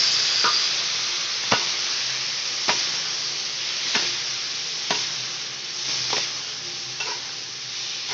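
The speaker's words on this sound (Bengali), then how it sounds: "তো এটা একটু ভালো করে কষা হয়ে যাক।" Spices sizzle in a pan with fried cauliflower and potatoes as a spoon scrapes and stirs in about eight sharp, evenly spaced strokes over a constant close-up frying hiss.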